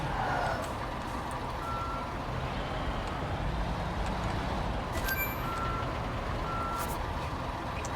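A rented truck with trailer reversing in Construction Simulator 22, steady repeating beeps over a constant engine drone, moderately loud and without speech.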